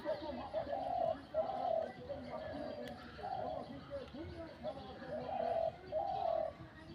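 A pigeon or dove kept on a rooftop coos in a repeated soft, low rhythm through the whole stretch, moderately close, with faint background noise and no speech.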